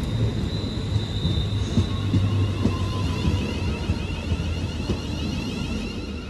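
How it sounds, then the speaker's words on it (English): A London North Western Railway service to Crewe pulls into Stafford station, a loud, steady rumble of the train rolling close by with high metallic squeals from wheels or brakes above it. "here comes the 10:35 London North Western Rail service to Crewe"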